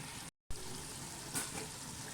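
Aloo mongray curry of potatoes and radish pods frying in oil in a pan, a soft continuous sizzle with a brief gap and a faint stir or clink partway through.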